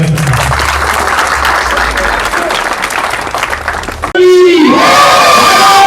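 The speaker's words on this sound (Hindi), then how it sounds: "एक बार जोरदार तालियों से गांव की तरफ से भाई" A village crowd gathered to welcome a guest claps and cheers loudly for a few seconds, then the applause cuts off and amplified singing or chanting takes over.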